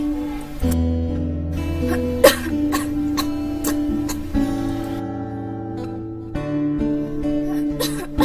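A few short coughs break through at intervals over a steady, droning musical background.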